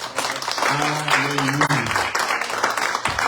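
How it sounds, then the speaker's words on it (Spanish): A church congregation claps together in praise, a steady wash of applause filling the room while a voice sings or calls out over it. "Denle palmas al Señor."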